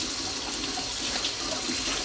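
Tap water runs steadily into a kitchen sink while a spoon is rinsed, a continuous close, loud splashing hiss with no pauses.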